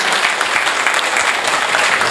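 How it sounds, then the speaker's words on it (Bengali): Loud, dense audience applause at a volunteer recognition program, steady, close clapping that runs the whole time without any talk. "তার জন্য একবার জোরে হাততালি হয়ে যাক"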